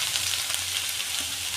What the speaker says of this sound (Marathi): तुपात आपल्याला हे गाजर सगळे परतून घ्यायचे आहे